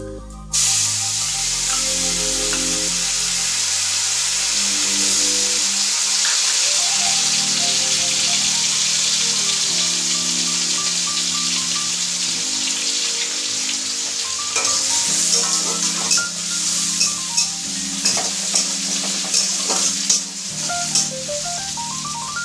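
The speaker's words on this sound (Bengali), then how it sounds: "এবার এটাকে নাড়িয়ে আমি পেঁয়াজ আর আদা রসুন টমেটোটা দিয়ে দেবো।" Onion, ginger, garlic and tomato go into hot oil with whole cumin and bay leaf for a rohu fish curry. A steady sizzling hiss runs with stirring knocks, over sustained tonal sounds in the background.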